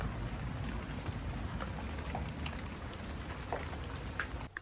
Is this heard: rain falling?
yes